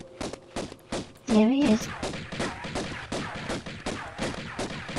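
An enemy firing a magnum pistol in Tomb Raider, Natla's Mines, produces a rapid, steady string of sharp gunshot cracks, roughly a dozen evenly spaced. A voice speaks briefly early on.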